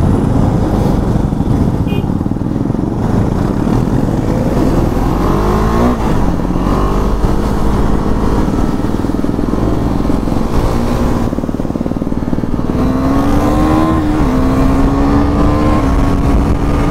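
Two same-colour KTM RC 390 motorcycles ride on a road near Bangalore toward Nandi Hills in cloudy weather, their engines droning loud and steady throughout, with pitch climbing and falling as the riders rev and shift.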